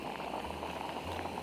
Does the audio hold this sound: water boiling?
yes